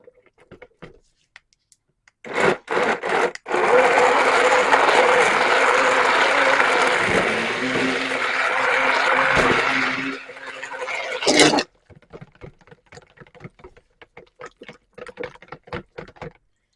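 A blender whirs loudly for about eight seconds, mixing black activated charcoal into cold process soap with African black soap powder, its motor grinding with a rough, gritty texture as chunks break up. Short bursts come before it and clicks and handling noise follow.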